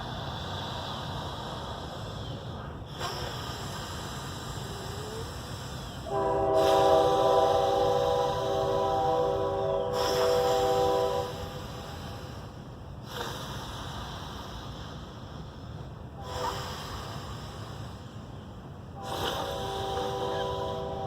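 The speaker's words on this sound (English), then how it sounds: "Got some train sounds in the back." A train passes in the background, a steady low rumble with several bursts of horn-like tonal sound swelling and fading across the stretch, with no talk over it.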